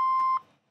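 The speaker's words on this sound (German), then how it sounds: "Bitte hinterlassen Ihren Namen und Ihre Telefonnummer nach dem Hinweiston." A single steady electronic answering-machine beep sounds loudly for about a third of a second, then cuts off and fades into silence.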